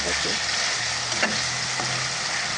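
Tomatoes sauté in a pan with a loud, dense, steady sizzle and a brief scrape of stirring, close and continuous.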